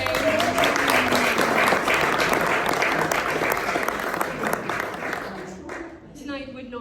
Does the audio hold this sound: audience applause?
yes